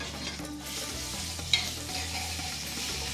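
About five cloves of garlic fry in a pan for Dhal soup, giving a steady close sizzle with stirring and a brief sharp clink partway through.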